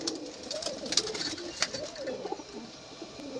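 Pigeons coo softly at a pigeon sale, low rolling calls repeating under faint background noise, with a few sharper sounds scattered through.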